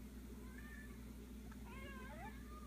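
Several house cats meow for breakfast, a few short plaintive meows and a longer wavering cry close by over a steady low hum, with no talk.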